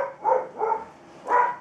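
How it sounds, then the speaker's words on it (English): Two dogs bark at a neighbour in three short, mid-pitched barks spaced apart, fairly close and moderately loud. "Darwin and Gilly are barking at the neighbour because they're not impressed."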